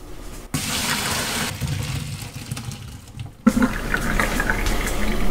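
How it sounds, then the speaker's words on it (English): Boiled potatoes and their cooking water dumped into a kitchen strainer, a loud close rush and splash of pouring water that surges again partway through, no voices. "So let's turn off the heat and toss the potatoes into a strainer."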